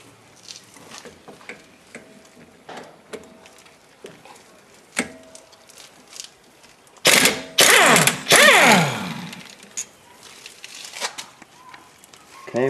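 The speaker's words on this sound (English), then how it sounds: "So we'll take the slide bolts off first, one at the top and one at the bottom." Brake caliper slide bolts being loosened on a 2003 Toyota Camry front brake, with scattered clicks and metallic taps, then a burst of ratchet-wrench ratcheting close up, under light talking.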